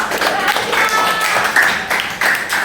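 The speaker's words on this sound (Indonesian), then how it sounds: "ya tepuk tangan buat Raja." A seventh-grade Islamic studies class of girls applauds, close and loud, a dense burst of many small hands clapping in uneven surges that swell and dip over a few seconds.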